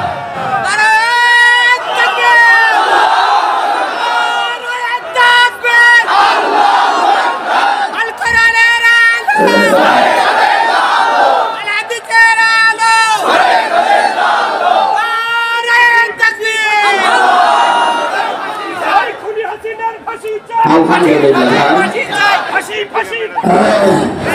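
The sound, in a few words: crowd chanting takbir in response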